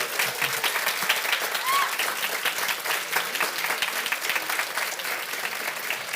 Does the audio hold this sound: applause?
yes